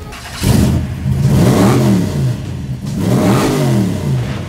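A loud hot rod engine at a street rod cruise revs up twice, rising and falling in pitch with a rough, throaty growl between bursts, close by.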